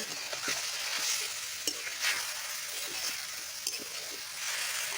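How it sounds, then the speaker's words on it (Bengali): Quiet, steady sizzle of bato saak greens frying in oil with garlic, onion and chili, with light stirring scrapes and occasional taps of a spoon. "রসুন পেঁয়াজ ও লঙ্কার মধ্যে আমি শাকগুলো একেবারেই ভাজা ভাজা করে নেবো"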